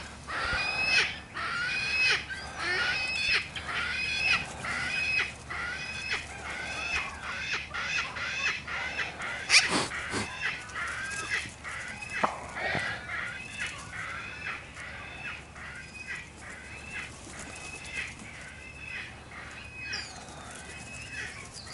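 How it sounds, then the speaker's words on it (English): Outdoor birds calling steadily throughout, two crows and a flock of gulls, a mix of harsh caws and repeated squawking cries, moderately near, with no talking. "We do got a bunch of birds back there at the bench. 2 crows, bunch of gulls."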